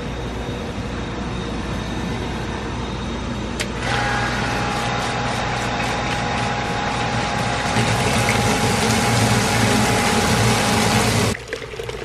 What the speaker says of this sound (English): Let's turn the pump on and flush all the junk out of these five risers.